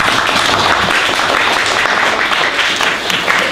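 Audience applause at a meeting of a patient support association, a dense, steady wash of many hands clapping throughout without a break.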